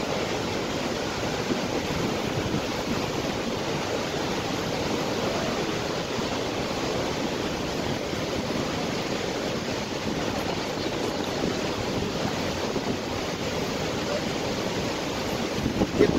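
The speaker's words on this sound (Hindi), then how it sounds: "एक तो ये मेन आपके आबशार है जिसको हॉर्स शू भी कहते हैं।" Niagara Falls' Horseshoe waterfall roars as a steady, dense wash of falling water, heard from a boat below, constant and loud throughout with no talk.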